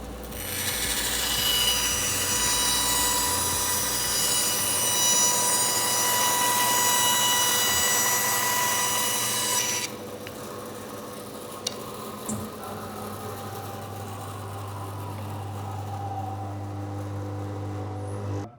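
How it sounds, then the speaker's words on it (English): A timber band saw runs steadily, its blade whirring with a bright, loud hum that suddenly drops at mid-point to a lower, quieter drone with a few faint knocks, no voices over it. "to start the machine, I press the button. Now the blade is rotating."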